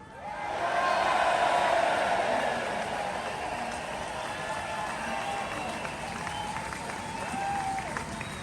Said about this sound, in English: and Victoria Atkins, the loudest cheer you've got.